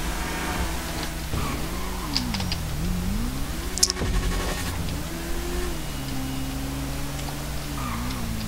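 Motorcycle engine in GTA V revving up and down in steady surges, a droning tone rising and falling over about eight seconds with a brief click near the middle.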